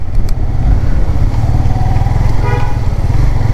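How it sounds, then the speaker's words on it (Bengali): A motorcycle rides slowly along a street in Dhaka, its engine a steady, close, low rumble throughout, with brief horn-like tones sounding partway through. "আমি তো বাইক স্লোই চালাচ্ছিলাম"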